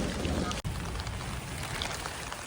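Steady rain hiss in Vietnam with a broadband wash, continuous throughout, with a brief dropout partway; a faint voice may be under it.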